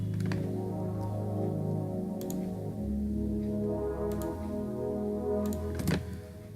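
A thick, droning GMS synth preset layer with a heavy low end holds steady, punctuated by occasional faint clicks and ticks, quiet and without speech.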